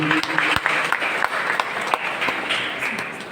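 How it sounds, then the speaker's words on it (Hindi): Audience at an expression of gratitude event applauding, continuous dense clapping from many hands with scattered sharper claps, filling the room throughout and slowly easing off. "तालियां, जोरदार तालियां अरविंद जी के लिए।"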